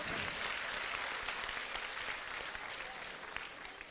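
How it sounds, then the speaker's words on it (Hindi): Audience applause for a child at a spiritual discourse gathering, a broad, continuous clatter of many clapping hands that stays fairly quiet and distant and slowly fades toward the end. "वाह, तालियां बजाओ बच्चे ने, देखो"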